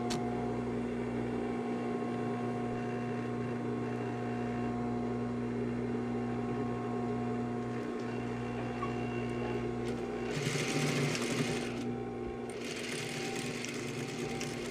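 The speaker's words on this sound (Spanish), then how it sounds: "vamos a coser aquí a 1 centímetro" A sewing machine stitches a fabric waistband in a steady, continuous mechanical hum and rattle, close and even throughout, with brief higher whirring bursts near the end.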